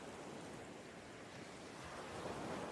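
Ocean waves wash steadily in open water, a continuous broadband surf hiss and rumble with faint swells rising and falling, distant and soft, alone with no voices.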